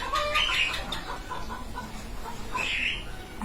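Chickens cluck and chirp close by in a warm room, a few short bursts of bird calls over a low, steady background hum, with no talk.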